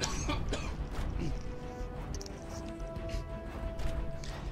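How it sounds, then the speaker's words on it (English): Several harsh coughs and throat-clearing bursts break out close to the microphone, with short pauses between them and a low background hum. "I need to cough again."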